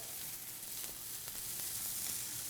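Onions saute in hot oil with a pinch of salt, giving a steady, faint crackling sizzle that carries on evenly at close range, with no voices.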